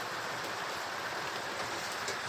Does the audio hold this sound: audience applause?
no